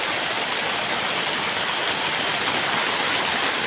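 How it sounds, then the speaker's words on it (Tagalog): Heavy rain pours onto a street in a dense, loud, unbroken hiss, close by and without pause, no voices heard. "Malakas ng ulan, no?"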